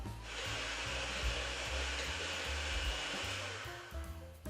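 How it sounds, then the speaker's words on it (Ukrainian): A powerful electric mixer whipping egg whites for a Pavlova dessert, its motor producing a steady, close, whirring whine that holds evenly throughout with no voices. "У мене міксер досить потужний, тому маленьких обертів немає."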